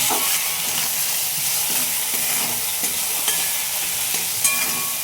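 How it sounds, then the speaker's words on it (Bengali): Spice paste for a fish curry being stir-fried in a pan, with a steady frying sizzle and repeated scraping strokes of the spatula up close. "এবার আমি এই মশলাটাকে ভালো করে কষিয়ে নেব।"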